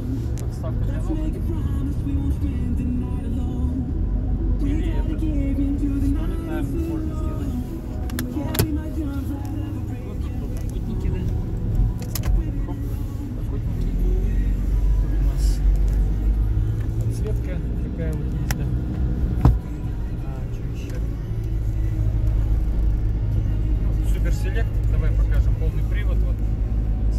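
Mitsubishi Delica L400 long-body van from 1994 with the 4M40 diesel, driving with a steady low engine drone and road rumble heard from inside the cabin, with people talking throughout.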